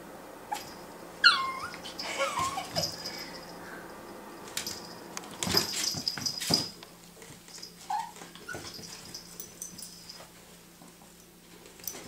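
A young puppy whimpers and yips in short, scattered bursts close by, with quiet pauses between the cries and faint crickets in the background.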